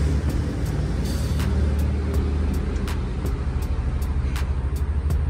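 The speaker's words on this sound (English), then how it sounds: "Every truck is driving by today." Trucks roll past on a nearby road beside an outdoor container corn garden, making a steady loud roar of road rumble with faint clicks and rattles throughout.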